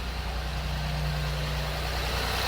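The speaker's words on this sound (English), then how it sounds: "engine is running" A Ford Fiesta VI 1.0 EcoBoost engine with a low oil pressure fault and a rattling noise idles steadily with a low, constant rumble and hum, no voices.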